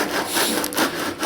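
Wood being sawn off a guitar body, a close, steady back-and-forth rasping of the blade through wood with rhythmic rubbing strokes and no talking.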